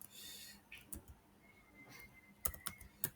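Someone types text on a computer keyboard, producing faint, sparse clicks in short irregular bursts over quiet room tone, with no speech.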